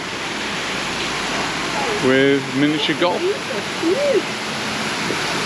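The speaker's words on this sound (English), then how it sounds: "So the swimming pool is now a waterfall and absolutely beautiful." Steady rushing water from a waterfall built into a former swimming pool at Santa Ponsa, Mallorca, a constant broadband hiss with a voice talking briefly over it.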